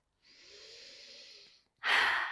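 Slow relaxed breathing, close and soft: a long gentle inhale of airy hiss, a short pause, then a stronger, brighter breath of air rushing out.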